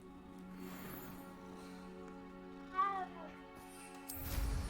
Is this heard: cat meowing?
yes